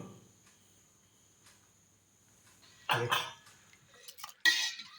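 Lid lifted off a cooking vessel of boiled rice in a quiet room: a faint hum, then a sharp metallic clatter and scrape, followed by a second brief clink.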